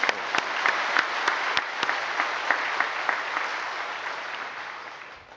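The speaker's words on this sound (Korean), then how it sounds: "한번 박수 한번 하시죠." A church congregation at a service honoring a retiring pastor claps together, dense applause with a few sharp distinct claps standing out, steady and then trailing off near the end.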